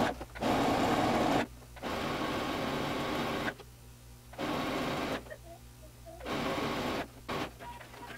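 A sewing machine stitches along a fabric strap for a long dress in several steady, buzzing bursts, stopping and starting with short quiet pauses between runs.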